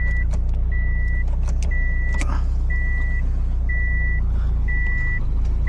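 Inside a Subaru WRX STI being reversed out, the engine idles with a loud, low rumble while a reversing beep chimes at a regular pulse throughout, along with some clicks and mechanical clunks.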